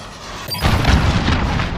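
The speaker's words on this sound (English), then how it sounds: "Allied cruise missile launched." A cruise missile strike in a military shooter game lands as a sudden loud boom about halfway through, after a quieter stretch, followed by a sustained rumbling roar of explosion and debris that fills the rest of the moment.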